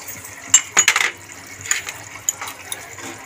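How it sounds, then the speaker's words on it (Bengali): A utensil stirs Bengali fish curry (bele macher jhal) in a metal pan, giving a cluster of light clinks and scrapes followed by softer, scattered taps, close and fairly quiet with no talking. "একটু নাড়িয়ে দেবো"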